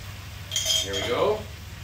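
A spoon scrapes and clinks against a pot while vegetables are stirred into green curry sauce, a short metallic stir sitting close over low room noise.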